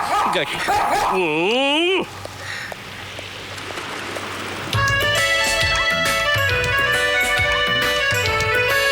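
A dog in a Bollywood film scene whimpers with rising, wavering yelps up close, then a quieter hissing stretch, then dramatic music swells in, with a voice speaking over parts of it.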